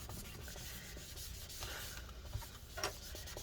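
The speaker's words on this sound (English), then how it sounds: "Okay, clean this up. Get that residue off." Paper towel wiping adhesive residue off the aluminum case of a 15-inch Early 2013 MacBook Pro A1398 during battery replacement, a steady soft rubbing with a few slightly louder strokes near the end.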